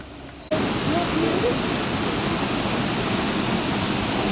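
Steady, dense rush of water pouring out at an old mill starts abruptly after a brief quiet moment and continues loud and unbroken, like a close waterfall.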